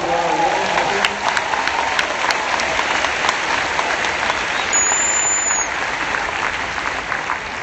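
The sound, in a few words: applause for teachers in the audience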